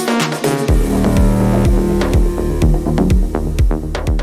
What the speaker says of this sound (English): And catchy melodies with some dark undertones that sound like this.